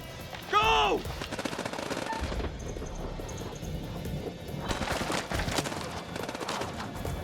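Gunfire crackles through a firefight in the video game House of Ashes, with a sharp burst near the start and a later flurry of rapid shots over a dense, noisy battle background.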